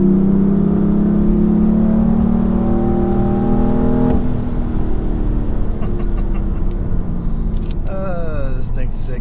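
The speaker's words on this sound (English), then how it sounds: "When those turbos spool up, you're flying." BMW F80 M3 accelerating with turbos spooling: a loud close engine note rising steadily in pitch, then easing off into a lower rumble with clicks and whirs, voices talking over it.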